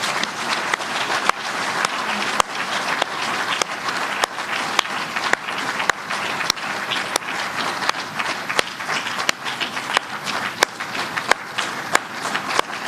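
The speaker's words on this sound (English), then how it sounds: "With a round of applause, ladies and gentlemen, welcome with me, Professor" Applause from an audience welcoming Professor PLO Lumumba to speak about money in politics, a steady dense clapping throughout with sharp individual claps standing out.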